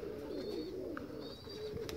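Domestic pigeons coo low and soft in a continuous, rolling murmur, with faint chirps and higher bird calls scattered over the top, heard from nearby at a gentle level with no voices.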